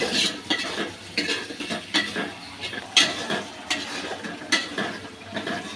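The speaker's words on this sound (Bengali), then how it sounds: "এবার এগুলো একটু পানি দিয়ে কষিয়ে নিলাম।" Fish curry spices with chili powder, turmeric and salt stirred and sautéed with a little water in a pan; steady scraping and clinking strokes of a utensil over a soft sizzle, repeating every second or so, close and alone.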